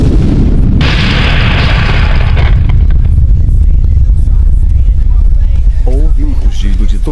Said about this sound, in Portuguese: Houve um rugido de trovão, e o navio, e uma pequena parte da ilha atrás dele, explodiram em 1 milhão de pedaços